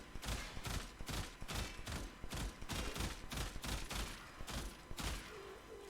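Burston Prime rifle in a video game fires in rapid, evenly spaced bursts, loud and close, continuing steadily for several seconds with no talk.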